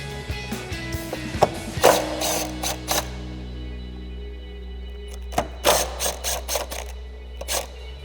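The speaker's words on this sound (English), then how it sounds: "So we're going to grab our 10mm socket and extension. We'll get those undone first." A ratchet with a 10mm socket and extension works bolts loose on a RAM 2500 truck, with bursts of rapid clicking separated by pauses, close and clear, with no talking.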